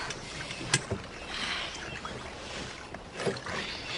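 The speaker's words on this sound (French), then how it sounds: "Fais des petits mouvements et garde tes rames en surface." Oars rowing a boat on water, with small strokes near the surface: two sharp splashy dips of the blades about two and a half seconds apart over soft wind and water wash.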